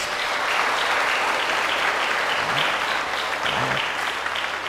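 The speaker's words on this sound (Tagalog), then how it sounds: "pumalakpak ng malakas" Loud, sustained applause from a church congregation at a novena Mass for the feast of the Virgin of Peñafrancia, a dense steady clapping that fills the whole stretch without pause.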